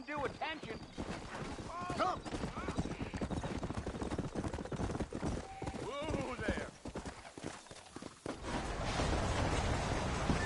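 Horse hooves clip-clop steadily in Red Dead Redemption, with occasional neighs and whinnies rising over the trotting, while someone talks throughout.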